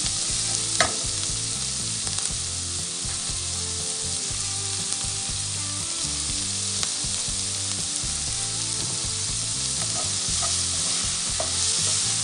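Sliced onions sizzle steadily in a hot pan for a Thattukada-style egg curry, a dense continuous frying hiss broken by repeated scraping stirs of a spoon, close and without talk.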